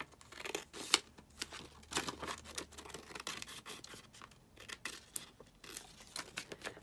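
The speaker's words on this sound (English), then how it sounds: "Okay, and then just cut it here." Paper cut by hand with scissors while mass-making triple envelope pocket junk journal pieces, giving a run of close, quiet snips and crisp crinkling rustles with no talk.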